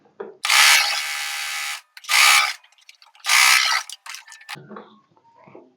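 A sewing machine runs a double stitch on a blouse lining in three bursts of rapid mechanical chattering, the first long and the next two shorter, with quiet handling sounds between them and afterwards.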